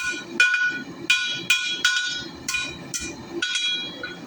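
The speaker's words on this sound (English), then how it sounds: "So I'm forging it to a square taper." A hammer forges a steel dragonfly piece to a square taper on an anvil, ringing out in about eight sharp, bright metallic strikes at a quick, slightly uneven rhythm, close and clear.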